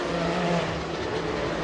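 Hiroki Kato's race car at the 2002 24 Hours of Le Mans spinning through the gravel trap, heard as a continuous loud engine roar with no break, close and alone.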